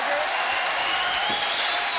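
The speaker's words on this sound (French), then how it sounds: "mesdames, messieurs, d'applaudir car nous sommes en train de nous quitter" Steady, dense applause from a studio audience fills a French television variety show at its close, loud and continuous with a faint tone underneath.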